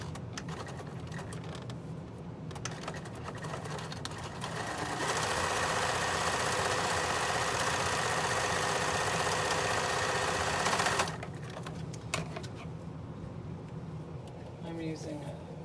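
A sewing machine top-stitches across a folding fabric face mask in one steady run of about six seconds, louder than the quieter talking heard before and after it.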